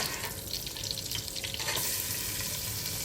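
Finely chopped onion frying in butter in a pan for a winter vegetable soup, a steady close sizzle and crackle with faint stirring, no voices.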